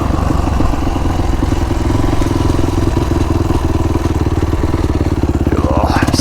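Honda CRF450R dirt bike engine runs loud and close throughout, a steady rapid mechanical thrum with clattering pulses and no clear rise in revs, alone with no talk.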